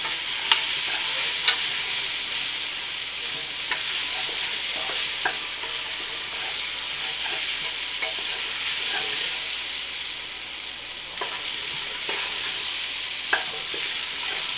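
Flour for jambalaya cooks in a pot with a steady, close sizzle and occasional stirring scrapes, continuing evenly without any talking.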